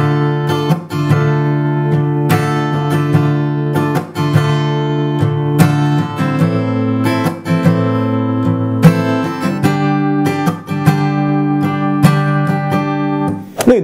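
Acoustic guitar slowly plays the second strumming pattern for a song, close and loud, with chord changes and regular accented down-and-up strokes ringing out one after another, no voice over it.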